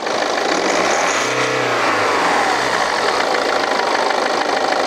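A BMW G30 520d diesel car engine revs up under the accelerator, pitch rising then falling back, loud and close over a steady running hum, during a check of the turbo intercooler hose.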